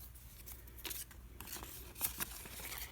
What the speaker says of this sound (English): You're going to want to cut your flap so that it will open.